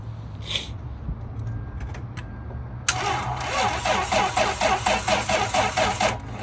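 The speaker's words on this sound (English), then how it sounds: "he cannot crank the car" Starter cranking on a Lexus car with a weak battery in cold weather, around 35 to 40 degrees: a rapid, even rhythm of starter grinding that starts suddenly after a quiet stretch and continues steadily without the engine catching.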